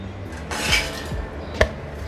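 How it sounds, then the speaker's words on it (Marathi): A metal lid is set onto a pot of besan pithla cooking on a gas stove, a brief scraping clatter followed by a single sharp clank, close by and clear. "तर मी हे झाकून ठेवते"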